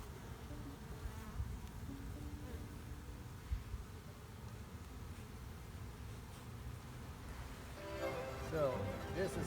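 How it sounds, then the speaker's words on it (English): Honey bees buzz steadily around a hive box during a hive transfer, a dense continuous hum close by with quiet movement throughout. "there are bees up under there"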